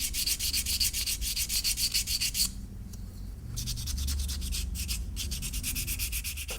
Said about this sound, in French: pendant 1h30, 2 heures selon la taille du couteau, donc je vais poncer mon bois ou ma corne